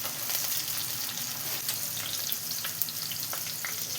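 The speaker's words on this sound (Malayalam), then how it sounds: "വെണ്ടക്കായ ഇപ്പോൾ നന്നായി തന്നെ ഫ്രൈ ആയി വന്നിട്ടുണ്ട്." Okra slices fry in coconut oil with a dense, continuous sizzle and scattered crackles, close up and steady, with no voices.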